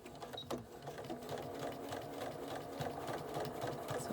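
A sewing machine stitching pieces of a LeMoyne star quilt block, a soft, steady rapid whir and needle chatter running continuously throughout, close but quiet.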